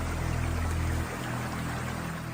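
Steady, dense rushing of a forest stream flowing nearby, continuous and fairly loud with a low rumble that eases partway through.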